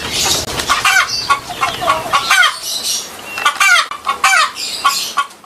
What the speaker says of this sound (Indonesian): Keluarlah seekor ayam.